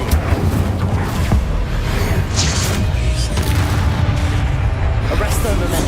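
Booming and crackling combat effects from the Incendio fire spell in Hogwarts Legacy ring out over dense, continuous game noise, with spell-name speech mixed in.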